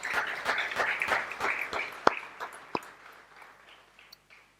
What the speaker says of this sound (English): one more round of applause for our Mary Lou